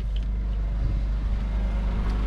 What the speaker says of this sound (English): Sorry for the generator noise.